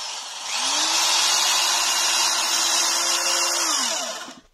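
A screwdriver drives a self-tapping screw into a floorboard laid on joists on the upper floor of a frame house: one steady high whir lasting about three seconds, rising at the start and winding down at the end, close and loud.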